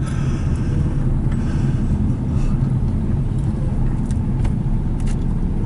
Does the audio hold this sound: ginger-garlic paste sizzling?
no